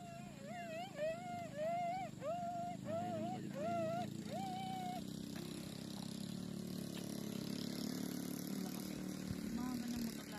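A motorcycle engine runs near a rural hillside covered in coconut trees, giving a steady, moderately loud drone throughout. A repeated high, warbling call sounds over it for the first five seconds.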